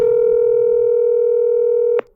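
A phone on speaker during a call gives one long, steady ring tone lasting about two seconds, then cuts off with a click.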